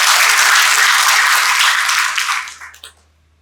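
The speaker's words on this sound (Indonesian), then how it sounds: "Tepuk tangan buat kita semua." A graduation ceremony audience in Kupang gives a loud, dense burst of applause that holds steady, then thins and fades out over the final second, leaving near silence.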